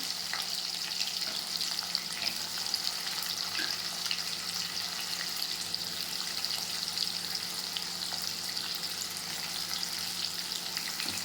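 Onions frying in a pan with bay leaf and garlic as the base for a potato egg curry, a steady close sizzle with faint crackle throughout, no talking.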